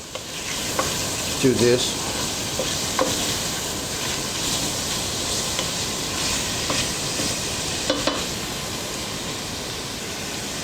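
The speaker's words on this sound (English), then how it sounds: "Give this a little stir. Everything's starting to render down a little bit." Chicken stew ingredients frying in oil give a loud, steady sizzle while being stirred, with occasional scraping clicks of the spoon in the pot and a brief spoken comment.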